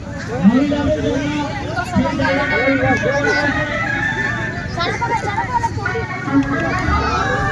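Dense crowd hubbub outdoors, many voices overlapping into a steady babble with occasional louder shouts rising above it.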